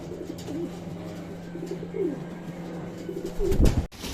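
Pigeons coo softly nearby, repeated low throaty calls over a faint steady hum, ending with a brief louder rustle.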